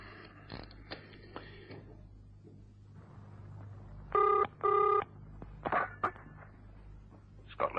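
A telephone on an outside line rings in a radio drama, two loud, close, electronic bursts in quick succession following quieter handling sounds, then further faint clicks and rustles.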